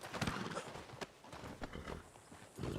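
Hooves clip-clop from horses in a video game, a few close, irregular thuds with some rustling, fairly quiet and unaccompanied by talk.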